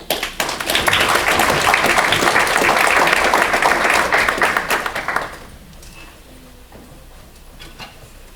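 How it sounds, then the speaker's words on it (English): A school board meeting audience applauds its students with dense, loud clapping for about five seconds, then the clapping stops abruptly and a quiet room with a few stray taps remains. "Let's give our students another round of applause."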